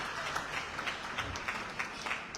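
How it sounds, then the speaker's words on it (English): An audience at an official launch event applauding the president of the press union, a soft, steady patter of clapping heard from a distance. "Can we give another round of applause for the president of the press union?"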